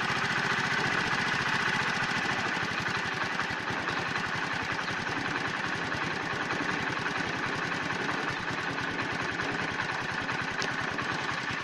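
A Hero 100cc motorcycle engine idles steadily just after a carburetor idle screw adjustment, with a fast, even putter close by that holds constant throughout with no talk over it.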